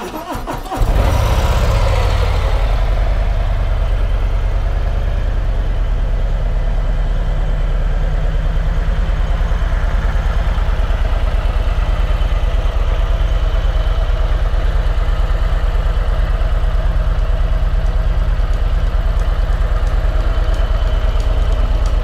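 A 2022 Harley Davidson CVO Road Glide Limited motorcycle cranks and fires up, then settles into a loud, steady, deep idle close by for about twenty seconds.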